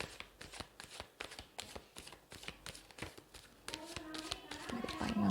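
Tarot cards riffle and slap in a quick shuffle, soft rhythmic flicks and taps close by, followed by cards being drawn and laid down, with someone talking over them.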